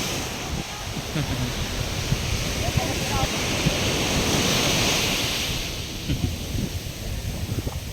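Sea waves wash steadily onto a shore as the tide rises, a broad roar that swells in the middle, with gusts of wind buffeting the microphone.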